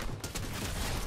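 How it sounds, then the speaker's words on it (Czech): Dense, continuous gunfire crackles through a video game battle, a rapid fusillade of overlapping shots held at a steady, loud level with no voices over it. "Tady nám ještě někdo střílí vepředu"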